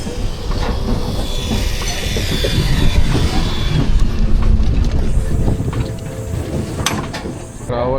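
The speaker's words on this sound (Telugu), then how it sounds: "ఇప్పుడు మన ట్రైన్ స్టార్ట్ అవుద్ది." A passenger train from Repalle to Secunderabad starts moving slowly through a maintenance stretch, with loud rumbling, wheel clatter and wind rushing throughout, heard from inside a carriage.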